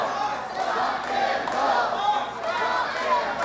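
A wrestling arena crowd at an OVW show cheering and chanting in loud, swelling waves of massed voices, rising and falling continuously.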